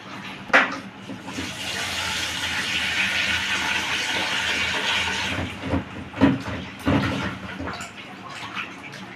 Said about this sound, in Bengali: এবার আমি ভালো করে কাঁচা জল দিয়ে ধুয়ে নেব।